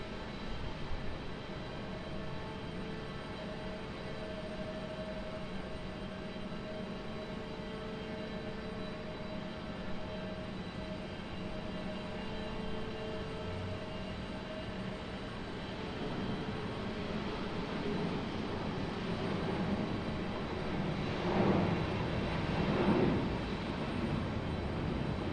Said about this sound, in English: Is that our A321neo headed back to Salt Lake City?